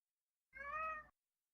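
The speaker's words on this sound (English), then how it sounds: "No, that's a cat." A single short cat meow from the video game Legend of Hyrule: Chain of Awakening, heard alone and clear against silence.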